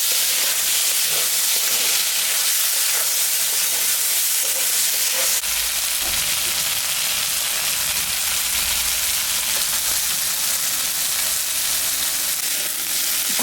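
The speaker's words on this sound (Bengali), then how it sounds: "ভাজাটা হয়ে গেছে, শাপলা ভাজা।" Water lily stems fry in oil with a continuous sizzling hiss and occasional stirring scrapes, close and steady throughout.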